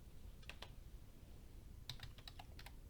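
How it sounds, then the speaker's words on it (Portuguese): Keystrokes on a computer keyboard as a web address is typed into a browser's address bar, a couple of quick taps followed after a pause by a faster burst of clicks, close and fairly quiet. "Começamos por escrever aqui na barra de endereços o endereço da plataforma"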